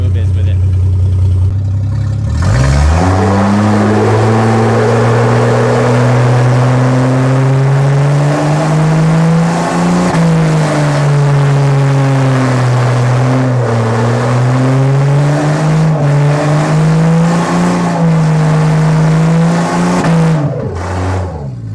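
A turbocharged Vortec 4200 in a GMC Envoy with a blown head gasket fires up and revs repeatedly, its loud engine note climbing and dipping in long pulls for about twenty seconds before cutting off.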